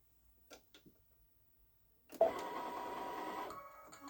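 A Babylock Solaris Vision sewing machine stitching a quilt starts up after a couple of faint clicks, then runs in a steady mechanical whir near the microphone that continues to the end.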